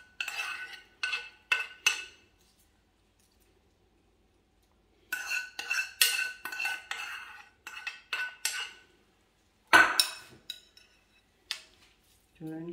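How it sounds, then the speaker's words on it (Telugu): A metal spoon stirs and scrapes tempering spices into elephant apple chutney in a pan, bursts of close, bright clinking and scraping separated by a long silent gap. "తాలింపు వేసేస్తున్నాను"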